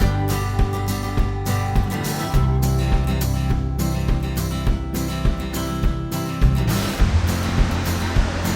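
Kouang Si waterfall in Laos, a steady broadband rush of falling water that holds at an even level throughout with no talk over it.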